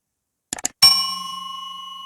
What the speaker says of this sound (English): hit that little bell notification so that way you get notified